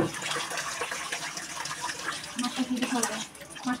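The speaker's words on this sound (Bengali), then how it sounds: "চালটাকে ধুয়ে নিব" Rice being washed by hand in water in a home kitchen, with continuous sloshing and splashing close up, while someone talks faintly over it.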